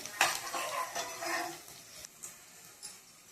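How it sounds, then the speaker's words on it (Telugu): A spoon scrapes and clinks against a pan while onion masala with red chilli is stirred and fried, soft sizzling beneath several brisk stirring strokes at close range. "మొత్తం అయిపోయేదాకా రెడ్ కలర్ వచ్చేదాకా కలుపుకొని ఉండాలి"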